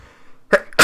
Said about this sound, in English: And I needed to sneeze there.